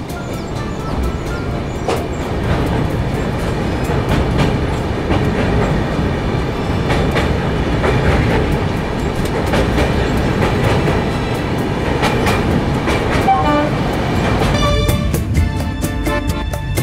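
An Indian Railways Humsafar Express, hauled by a WDG 3A diesel locomotive, runs from Chennai to Ahmedabad, heard from inside its vistadome coach. A loud, continuous rumble carries rhythmic wheel clicks over rail joints throughout.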